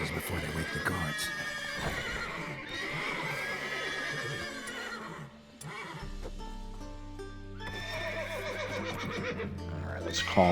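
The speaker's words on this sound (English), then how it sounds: "Gotta calm all the horses before they wake the guards." Horses in The Witcher 3 whinny and neigh repeatedly, with clip-clopping hooves and soft game music beneath, the calls rising close and clear before a brief lull and then returning.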